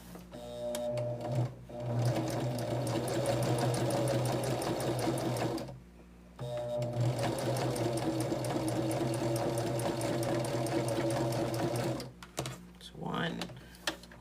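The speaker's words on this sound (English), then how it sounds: "We're going to take this to the machine, and we're going to chain stitch these." A sewing machine chain stitching jelly roll strips for a quilt block runs in two long, steady, rapid bursts separated by a short pause, then stops, followed by a brief rustle.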